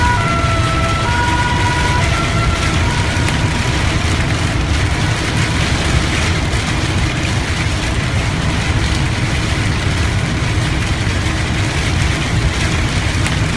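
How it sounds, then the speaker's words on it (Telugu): Heavy rain pours in a driving simulator game, a dense steady hiss filling the whole stretch, with faint tonal engine or horn lines early on and no voices. "వర్షం గట్టిగా పడిపోతుంది"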